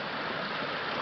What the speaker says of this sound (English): Well, this creek is pretty full